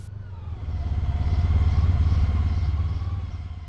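Motorcycle engine running steadily during a ride from Martos to Albacete in Spain, a loud, continuous low rumble with rhythmic pulsing that swells slightly mid-way and stays close throughout, with no talk.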